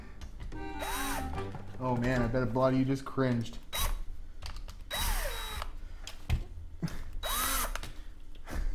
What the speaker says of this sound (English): Should I just use the drill to put this on?